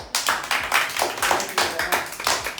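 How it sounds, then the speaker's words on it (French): Group of people clapping in rhythm at a making-of event for a connected-games production, steady unison claps about every quarter second, fairly loud and close, with no talking. "vous pouvez les applaudir"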